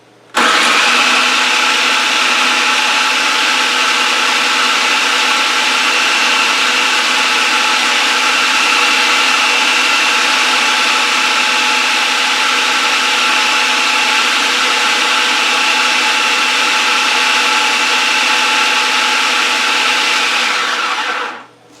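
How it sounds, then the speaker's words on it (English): A food processor motor blends garlic and onion into a paste, running as a loud, steady, close whir for about twenty seconds without a break before cutting off at the end. "Let me forewarn you that food processor motor is a little loud."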